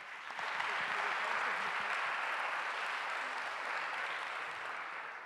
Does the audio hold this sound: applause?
yes